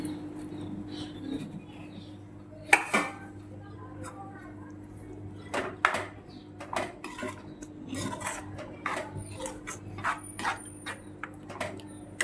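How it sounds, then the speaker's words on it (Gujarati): Grated paneer tipped into a prepared gravy in a pan for Amritsari paneer bhurji, giving scattered metallic scrapes and clinks of a spoon against the pan over a steady background hum, with sharper knocks now and then. "આ છીણેલું પનીર છે એ આપણે અંદર નાખી દઈશું"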